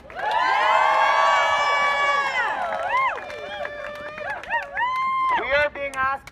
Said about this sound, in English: Could we give one more round of applause to Dara?